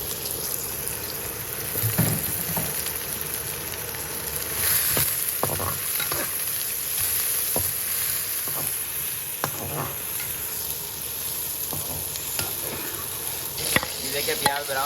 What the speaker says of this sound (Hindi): ये देखिए घी गर्म हो गया। अब इसमें प्याज डाल दें। इनको अच्छी तरह ब्राउन कर लें।